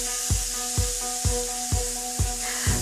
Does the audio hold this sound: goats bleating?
no